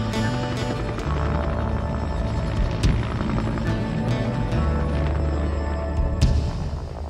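An army helicopter from 1990 in Quebec, Canada, makes a steady, loud, close rotor rumble and whine with occasional sharper thumps throughout.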